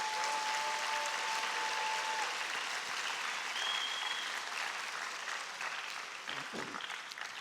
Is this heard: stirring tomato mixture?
no